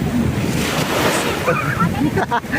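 Big sea waves roll onto a La Union beach in a continuous loud surf wash with wind buffeting the microphone, while voices chatter faintly underneath.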